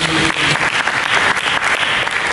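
A church congregation claps during a sermon, a dense, loud and continuous burst of applause filling the whole moment with no speech over it.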